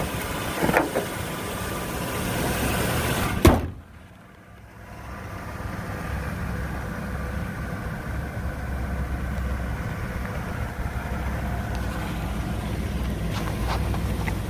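A 2005 Ford Ranger engine idles with a steady, low, even hum. A sharp knock comes early on, then the idle briefly dips quieter before settling back to a constant drone.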